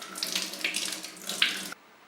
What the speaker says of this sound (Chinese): 再洗一个小番茄